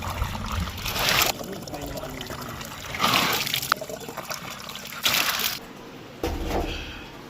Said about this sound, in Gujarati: તો ચલો ફટાફટ પાણી ભરી લઈએ